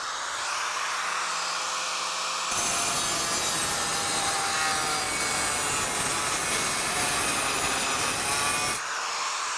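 Tile being cut at an angle around a hole, a harsh, steady grinding cut that runs loudly for about six seconds between quieter stretches of faint background noise.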